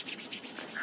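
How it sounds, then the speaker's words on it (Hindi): Two palms rubbed briskly together in a steady back-and-forth rhythm, a soft close-up swishing friction repeated in quick strokes with no other sound. "rub your both palm"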